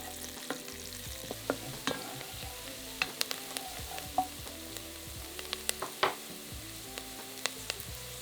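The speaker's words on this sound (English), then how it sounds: "add a large onion that's been peeled and diced and cook for about 5 to 6 minutes, stirring often until softened" Diced onion cooking in melted butter in a casserole pan gives a steady soft sizzle, with frequent close scraping and clinking stirs from a spoon against the pan and no talking.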